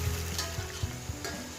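Tomatoes fry in a pan for a potato-pea rice dish, a steady close sizzle broken by a few soft stirring knocks, with no voices.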